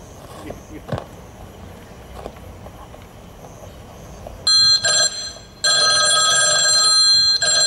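A telephone rings during a family comedy skit, a loud electronic ring in two short bursts followed by a longer sustained ring, after a stretch of quiet room sound.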